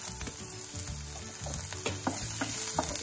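Green chillies sizzle and fry with onions in a pan as besan masala dosa filling is cooked, giving a steady close crackle with a few stirring scrapes and no talking.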